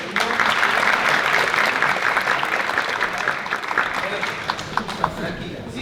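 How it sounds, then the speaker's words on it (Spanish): An audience claps loudly for a volunteer at a live talk, a steady, dense round of applause that gradually thins toward the end, with a few sharper individual claps. "un aplauso para Belén, que se animó"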